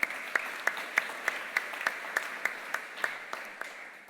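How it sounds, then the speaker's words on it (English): An audience at a fund management industry conference applauds, the clapping steady and moderately loud, punctuated by regular sharp accents. "Can I have a round of applause, please, for Mr. Fabrice Jeusette?"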